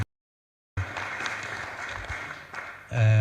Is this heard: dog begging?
no